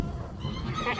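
A goat bleats at a goat farm in California, one sustained, wavering cry heard close and loud for about a second.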